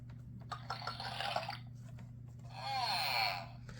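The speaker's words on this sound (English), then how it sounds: "In the office, Scotty pours everyone a cup of hot chocolate" Hot chocolate poured into cups as a sound-book effect in an office scene, two bursts of liquid splashing and filling, the second with a rising gurgle, over a steady low hum.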